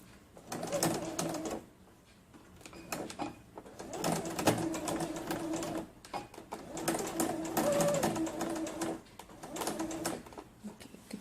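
A sewing machine stitches a collar in several bursts of fast, rattling needle runs, moderately close, with short pauses between runs and no talk.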